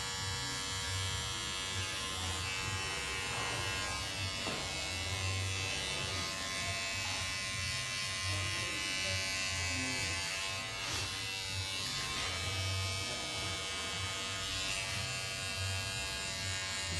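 Electric hair trimmers tidy the outline of a short creative women's haircut, giving a quiet, continuous buzz with slight pulsing as the blades move along the hairline. No one speaks.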